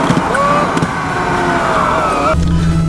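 A vintage Nissan Skyline Kenmeri cruises slowly along a city street in Osaka, its engine humming steadily with gliding whine tones from inside the car, ending in a brief shift in pitch.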